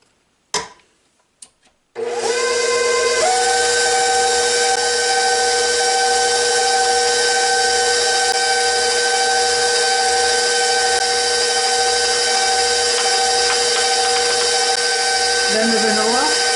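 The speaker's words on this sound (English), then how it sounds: "So now we're going to add in the eggs and beat them one at a time." An electric mixer whirs loudly and steadily as eggs are beaten one at a time into German chocolate cake batter, a few knocks first, then a continuous motor drone that shifts slightly near the end.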